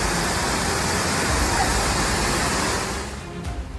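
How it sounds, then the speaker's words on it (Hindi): Floodwater in Ankara rushes into a building with a loud, constant, close roar of surging water that eases slightly near the end; no crashing of windows or doors stands out. "देखिए कैसे तबाही का पानी बिल्डिंग में घुसा और खिड़की दरवाजों को तोड़ता हुआ बहा ले गया।"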